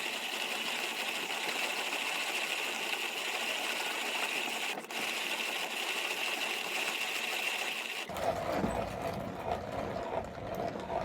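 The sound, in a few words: 1930s hand-cranked coffee grinder grinding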